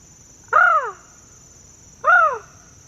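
A person imitates crow calls with two loud, harsh caws, each about half a second long and spaced well apart, heard outdoors at a rainy campsite over a faint steady hiss.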